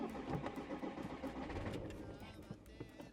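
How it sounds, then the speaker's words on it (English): A van engine cranks and turns over with uneven bursts, sputtering before catching, while a person talks nearby. "Here's the first engine turn on for the first trip."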